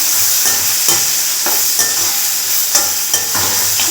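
Potatoes sauté in a pan with a bit of ginger for masala dosa filling, giving a loud, close, steady sizzle with a rhythmic scrape and tap of a spatula stirring every half second or so.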